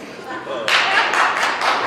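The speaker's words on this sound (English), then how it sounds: "I love you clapping for that" Audience at a comedy show breaking into clapping, a burst of hand claps rising suddenly partway through and continuing in uneven waves, fairly close and lively.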